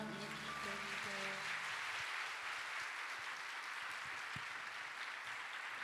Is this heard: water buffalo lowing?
no